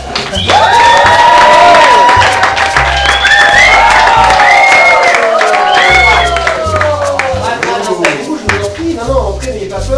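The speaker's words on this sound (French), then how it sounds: "Je vous prie de faire un tonnerre d'applaudissements pour Brad Lampaler." A crowd cheers and whoops loudly over steady applause, with excited shouts rising and falling throughout; background music pulses underneath.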